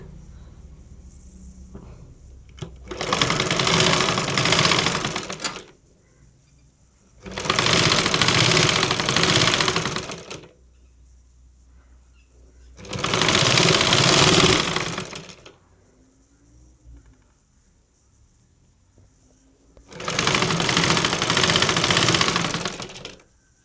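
An electric sewing machine stitches thread piping onto a canvas neckline in four separate loud, whirring runs of a few seconds each, with quiet pauses between them.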